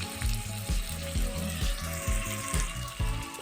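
Chopped garlic and onion fry in hot oil in a pan over a medium gas flame, giving a steady, close sizzle with a repeating bubbling crackle and no voices.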